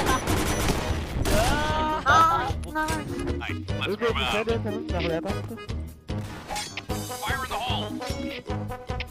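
Gunfire from the Point Blank shooter game: rapid bursts of automatic shots and sharp single cracks come in clusters, loud and close, mixed with game effects while players talk over it.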